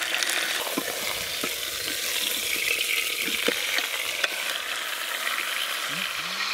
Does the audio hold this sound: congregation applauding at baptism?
no